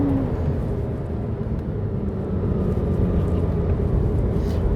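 A Porsche 987.2 with PDK gearbox accelerating in sport mode, its engine a loud, steady, full-bodied roar that rises gently and holds without a break.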